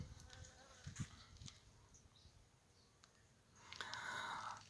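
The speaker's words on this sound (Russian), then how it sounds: "Смотрите, пчелки летают." Bees fly and buzz around an olive tree outdoors, a thin wavering hum that comes and goes, swelling louder near the end, with faint bird chirps and outdoor ambience.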